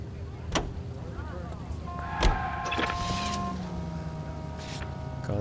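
Game car in L.A. Noire driving along with a steady engine hum and tonal whine, a couple of sharp knocks and thumps along the way, while voices talk over it.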